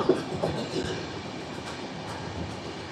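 Garib Rath Express running between Visakhapatnam and Secunderabad, a steady broadband rumble of the moving train with faint rhythmic wheel clatter throughout, no voices.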